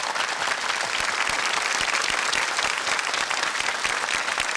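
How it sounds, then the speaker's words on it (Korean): A studio audience on a KBS TV show about an army unit claps loudly to welcome guests, dense steady applause throughout with no talking. "만남에 큰 박수를 한번 보내주십시오"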